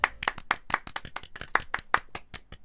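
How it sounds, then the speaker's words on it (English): Sparse, distinct hand claps sound at an uneven rhythm, about a dozen crisp slaps close and fairly quiet, as applause in the Doki Doki Literature Club video game. "Natsuki finishes and everyone applauds."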